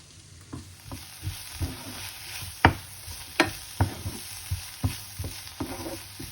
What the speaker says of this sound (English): I'm going to put in some red chili powder and I'm going to mix it up.